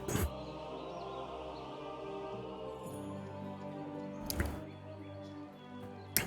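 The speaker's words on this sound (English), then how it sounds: "Let me drink some water real quick." A person takes a few close, wet sips and gulps of water, heard as brief squishy bursts spaced several seconds apart over a steady low hum.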